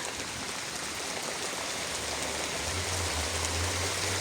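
Autumn rain falling steadily outdoors, a continuous dense hiss of drops with no gaps, joined partway through by a low hum.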